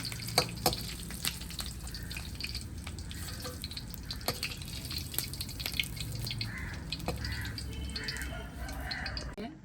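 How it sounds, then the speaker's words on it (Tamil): Peanuts fry in oil in a pan, giving a continuous sizzling crackle with scattered sharp pops and occasional light stirring. "எண்ணெயை விட்டுட்டு கச்சான வறுக்கப்போம்."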